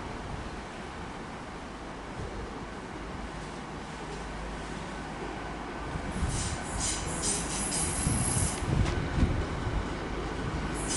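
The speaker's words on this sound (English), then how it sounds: "We have a terminating LNER Azuma from London King's Cross." An LNER Azuma class 800 train, unit 800-203, pulls into Lincoln station on a terminating service from London King's Cross. A steady rail rumble builds, then clattering wheels and metallic squeals grow louder and closer in the second half.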